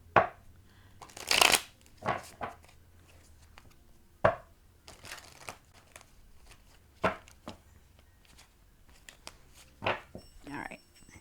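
A tarot card deck is shuffled in quick, separate bursts of riffling and slapping, close and crisp, spread across the clip with soft talking between them.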